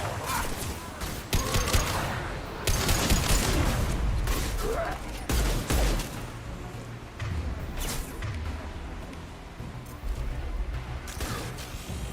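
Mass Effect Legendary Edition combat: bursts of gunfire and impact shots crackle through a dense, noisy firefight with booms and mechanical clatter, steady and loud throughout, with occasional voices.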